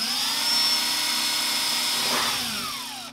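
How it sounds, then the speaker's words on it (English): A power drill with a 3/16 bit bores a hole for a DIY license plate delete, a steady high whine running close and continuous before slowing and tapering off at the end. "Start drilling out that hole."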